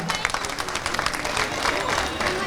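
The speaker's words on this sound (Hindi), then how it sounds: "एक बार इनके लिए भी जोरदार तालियां।" A crowd at an outdoor political rally claps loudly, a thick continuous burst of applause with scattered sharper claps and a murmur of voices underneath.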